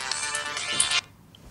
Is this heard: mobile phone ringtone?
yes